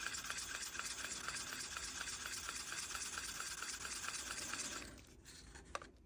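Two-part polyurethane resin being stirred together in a container, a close, continuous scraping and swishing stir that runs steadily before stopping near the end.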